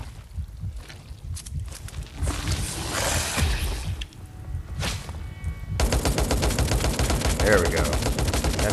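Gunfire from a gun in the video game Life After: scattered loud shots and bursts early on, then sustained rapid automatic fire in the final seconds, close and dense over game ambience.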